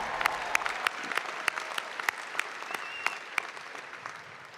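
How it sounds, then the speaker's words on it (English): A commencement crowd claps for several seconds, with sharp individual claps standing out above a softer wash of applause that thins slightly toward the end. "Yeah, you can clap."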